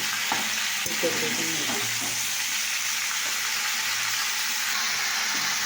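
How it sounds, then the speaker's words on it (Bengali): Food stirred as it fries in a pan, a steady loud sizzle throughout with occasional scrapes and clinks of the utensil against the pan, no talking. "তো নাড়াচাড়া হচ্ছে।"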